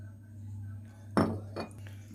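Utensils clink twice against a dish while sardines are stirred with vinegar and soy sauce, sharp close taps over a steady low hum.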